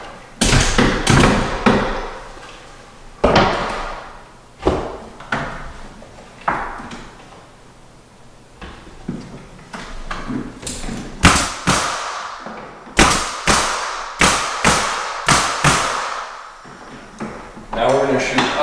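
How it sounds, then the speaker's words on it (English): Nails driven into a wooden door casing while 3-piece headers are installed, a series of sharp, loud nail-gun shots with pauses between them, close by, with speech in between. "Two nails down into the casing."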